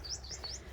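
Small birds in a grape orchard give a few quick high chirps, thin and fairly faint, over a low outdoor background.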